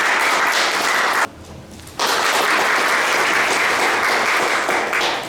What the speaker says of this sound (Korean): 큰 박수로 모시고 함께 하도록 하겠습니다